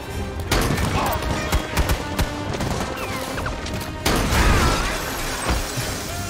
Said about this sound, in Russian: Он стреляет, я вообще не понимаю, кто в кого стреляет.